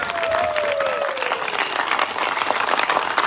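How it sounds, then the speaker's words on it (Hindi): A crowd at a PTI political rally in Sharaqpur Sharif claps loudly and continuously, dense applause filling the whole stretch with a faint voice briefly audible early on. "इमरान खान के लिए ऐसे तालियां बजानी है"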